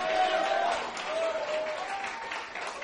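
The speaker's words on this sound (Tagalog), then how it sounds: "Kaya pumapalakpak kayo." Church congregation applauding during a service, a sustained wash of clapping filling the room with steady loudness, mixed with crowd murmur and a voice sounding over it.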